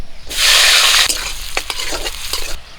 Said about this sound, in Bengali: ভাজা তেলে আমি পেঁয়াজ কুচি আর কাঁচা লঙ্কা চিরা দিয়ে দেবো